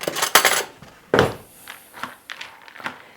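Smoked paprika and other dry spices stirred into wet rinsed pumpkin seeds in a bowl, giving a series of close scraping, clinking strokes of a utensil against the dish, loud at first then lighter and evenly spaced.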